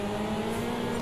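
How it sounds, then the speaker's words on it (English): A racing car engine in a video game drones loud and steady as it bogs down on a corner exit, a strained, even tone without rising revs. "we hear the car just bogged down there, just not quite the torque"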